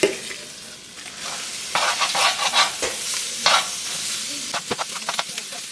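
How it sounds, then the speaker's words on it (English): Vegetables cooking down in a gumbo pot for chicken and seafood gumbo, a soft sizzle under repeated scraping stirs that come in bursts, close-up with no voices. "We're going to add these vegetables. And we're going to cook these down as well for about 2 minutes."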